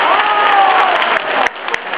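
Applause from wedding guests at a banquet, a dense burst of clapping that fades after about a second and a half into a few scattered claps, with a host's voice and music carrying over it.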